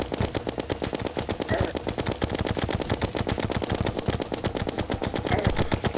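Rapid automatic gunfire aimed at the player in the video game Terraria, a dense, continuous rattle of shots that holds steady and loud throughout with no talk over it.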